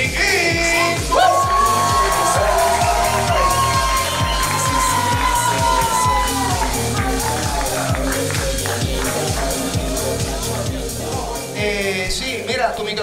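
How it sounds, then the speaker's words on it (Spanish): A live studio audience at the talk show Dulce Compañía cheers and whoops steadily for about thirteen seconds while loud rhythmic music with a heavy beat plays throughout. "vamos a darle un fuerte aplauso a Eddie Joe, Dino Casquez, Buffering Geek."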